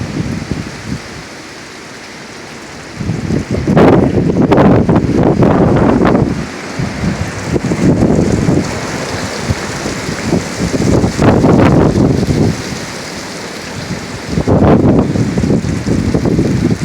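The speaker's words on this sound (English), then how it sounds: "it's 60 mile an hour wind gusts easy." Strong windstorm gusts in northern Oklahoma roaring across the microphone in repeated loud surges, each rising and falling over a few seconds between brief calmer lulls, with no talk.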